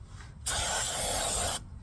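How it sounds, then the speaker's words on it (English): A single steady hiss of brake cleaner spray lasting about a second, close and fairly loud, starting and stopping abruptly. "Got this brake cleaner spray."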